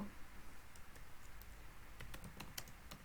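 Soft, quick keystrokes on a computer keyboard while code is typed, a light irregular patter of taps that grows busier toward the end, close and quiet with no talk.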